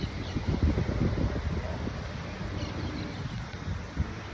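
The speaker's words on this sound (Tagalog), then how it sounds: "Maganda yung simoy na hangin" Outdoor breeze on a fine, fresh day, a soft continuous rush with gusty low buffeting against the microphone, steady and moderately quiet throughout with no talking.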